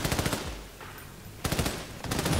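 Rapid automatic gunfire from the video game Army of Two: The Devil's Cartel, loud bursts of machine-gun shots, a pause, then more bursts.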